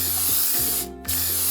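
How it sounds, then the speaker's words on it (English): Cooking spray hisses onto a cake pan in two close bursts separated by a short pause, loud and near with no talk. "Next, let's spray the pan."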